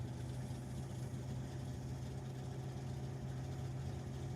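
Naturally aspirated 427 cubic inch LS-powered Pontiac Super Street Eliminator drag car idling at a dragway, a steady low rumbling drone heard faintly and evenly from a distance, with no talking.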